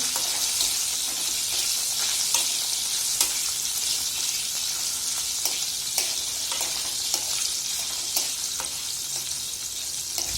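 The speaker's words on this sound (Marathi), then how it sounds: "मी सगळ्यात पुढे वांगे टाकते वांग्यांना आपण थोडं परतवूया" Brinjal (eggplant) sautéing in a pan for a mixed vegetable dish, a steady close sizzle with occasional stirring clicks throughout, no talking.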